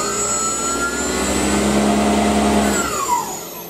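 Steady drone of a Tormach milling machine spindle drive powering on in a workshop, holding even for several seconds before winding down with a falling whine near the end.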